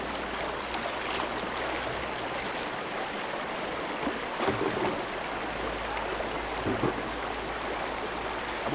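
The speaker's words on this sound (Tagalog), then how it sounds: "Ito yung bukal ng Lanao del Sur." Water flowing at a cold natural spring in Lanao del Sur, a steady broadband rush that holds evenly throughout with a few brief louder splashes, fairly close, with no voices.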